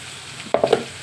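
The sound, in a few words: frying raw cashew curry ingredients in a pan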